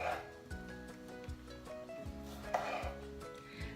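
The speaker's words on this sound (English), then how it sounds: "we're going to chop up some of the stems as well" A knife chops thick broccoli stems on a cutting board in a home kitchen, with steady repeated thuds, about two per second, close and fairly soft, while someone talks over them.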